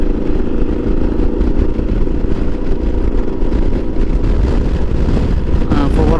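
A Super Tenere motorcycle cruises along a road in northern New Mexico, its engine a steady low drone mixed with heavy wind buffeting throughout, loud and continuous without pause.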